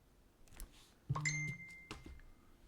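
A phone gives off a short quiet ding-like notification chime partway through, with faint thumps around it in an otherwise hushed room.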